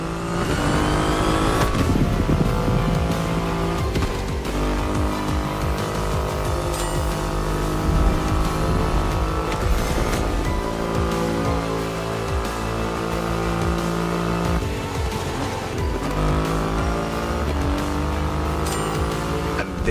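A Triumph Rocket 3 motorcycle with a 2.5-litre engine roars steadily and loudly in The Crew Motorfest racing game, its rev pitch rising and falling for the whole stretch over a constant mechanical drone.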